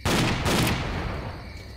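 A shotgun fires in the video game S.T.A.L.K.E.R. Clear Sky, with two sharp close blasts in quick succession and a rumbling tail that fades. No talk is heard.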